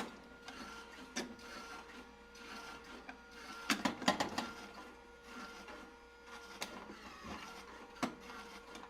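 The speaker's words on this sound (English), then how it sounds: "I'm gonna turn the drum on." A Skywalker V1 coffee roaster drum runs with a steady mechanical whir, and a cluster of sharp knocks and clatters comes near the middle. The drum sounds faulty.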